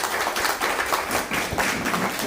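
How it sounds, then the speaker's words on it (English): A church congregation applauding, a dense patter of many hands clapping in an indoor hall, steady and fairly loud throughout with no speech. "Give her a round of applause"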